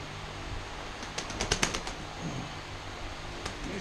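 A pigeon flaps its wings in a short burst of rapid fluttering near a running 3/4 horsepower motor, then a soft coo, all over a steady mechanical hum.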